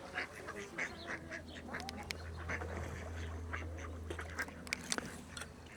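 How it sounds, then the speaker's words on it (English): Ducks quack repeatedly at a moderate distance in an irregular chatter over a steady low hum, with no talking. "So I'm going to watch these ducks for a little bit and see what happens."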